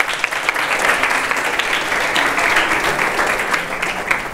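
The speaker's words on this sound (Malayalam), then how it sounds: "കാവ്യയ്ക്ക് ഒരു കയ്യടി കൊടുക്കണ്ടേ" An audience at an engineering college induction program applauds a student named Kavya, a loud sustained wash of many hands clapping close and evenly throughout.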